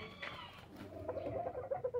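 Roosters cluck at a breeding farm, a busy flock of fowl heard close by in a steady stream of short clucks and calls over outdoor background noise.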